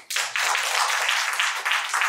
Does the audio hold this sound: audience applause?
yes